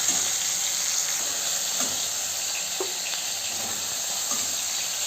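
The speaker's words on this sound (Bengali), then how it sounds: "একই তেলের মধ্যে আমি বেগুন আলুগুলোকে ভেজে নেব।" Eggplant and potato pieces fry in hot oil left over from frying fish, making a steady, close hiss of sizzling with a few faint pops and scrapes and no voices.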